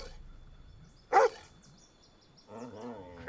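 A dog barks in one short, loud burst, followed a moment later by a voice speaking nearby.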